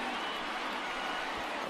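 Stadium crowd in the baseball video game MLB The Show, a broad, steady roar of cheering fans on their feet, loud and continuous with no pauses.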